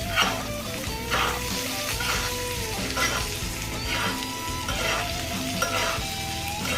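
Steak searing in a hot pan while being basted with butter, a steady close, loud sizzle and crackle with spoon scrapes and spattering bursts throughout, no talking.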